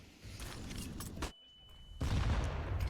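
A grenade blast from Counter-Strike during a professional esports match, a loud burst with rumbling gunfire-like crackle, followed by a brief quiet gap and then another heavy surge of game noise.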